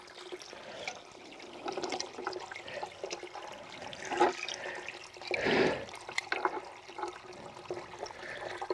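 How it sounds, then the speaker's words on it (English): Water from a ram pump in the woods gushes and splashes into a bucket with an irregular, turbulent rush that swells and surges midway, close by, with no talking. "I want the water to actually come up and overflow over the bucket"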